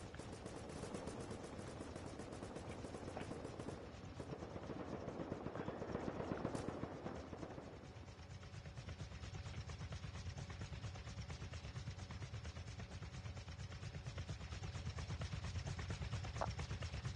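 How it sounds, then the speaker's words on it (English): A Chinook helicopter in the game Rust hovers with a constant, faint rotor thrum and mechanical drone, while rapid machine-gun fire rattles through it. "Because the Chinook is not leaving. It's still shooting."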